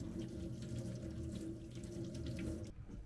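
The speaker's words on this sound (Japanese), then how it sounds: "じゃがいもを洗います。" Tap water runs steadily into a kitchen sink as potatoes are washed, a close, continuous splashing gush that cuts off near the end.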